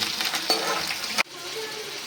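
Peanuts, curry leaves and cumin frying in oil for batata poha, a steady close crackling sizzle with stirring, broken by a sudden cut and then a softer, lower sizzle.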